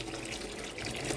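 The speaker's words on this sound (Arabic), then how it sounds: "نحط ميه ساقعه" Cold tap water splashing onto boiled potatoes in a pot, a brief, faint steady gush of running water close by.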